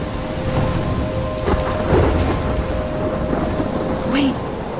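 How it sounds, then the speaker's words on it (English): Steady heavy rain with rolling thunder in a thunderstorm from the video game Life is Strange, a continuous loud wash of rainfall broken by low rumbles and cracks across the whole stretch, with no talk over it. "I'm trapped in a storm?"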